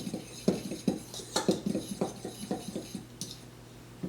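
Dry baking ingredients for peanut butter banana muffins, flour with baking powder, baking soda and salt, being mixed in a bowl, giving a run of close, light clinks and taps of a utensil against the bowl in an uneven rhythm.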